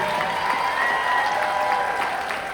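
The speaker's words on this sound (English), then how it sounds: "One more round of applause for The Librarians" A Comic-Con crowd applauds The Librarians cast panel in San Diego, steady dense clapping filling a large hall with a few cheers, sustained throughout.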